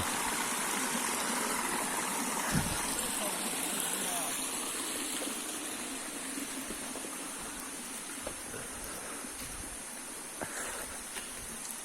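A waterfall-fed stream runs in a continuous loud rushing wash of water, steady and close throughout with no break.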